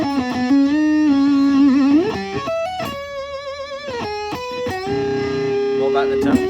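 A modified Fender Stratocaster electric guitar played through distortion rings out in loud sustained notes and short phrases, with pitch bends and brief pauses between them.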